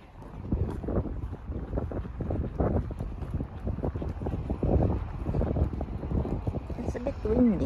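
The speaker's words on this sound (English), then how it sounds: "It's a bit windy." Strong wind gusting across the Morecambe seafront promenade in Lancashire, buffeting the microphone in loud, continuous rumbling blasts, with a person talking briefly near the end.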